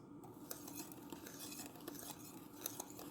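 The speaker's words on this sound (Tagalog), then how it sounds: "mix slowly" Carrot cake batter is stirred slowly by hand in a bowl, giving soft, steady scraping and light clinks of the utensil against the bowl, faint and close, with no talk over it.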